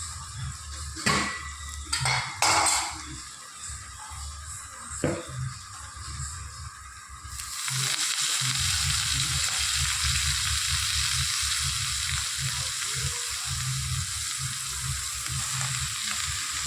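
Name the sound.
greens being added and frying with onions in pan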